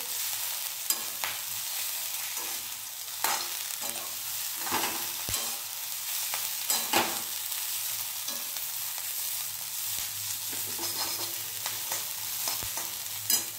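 Ghol, a wild leafy vegetable, sautéing in a pan, with a continuous bright sizzle and repeated spatula stirring scrapes at an even pace, close and steady, no talk.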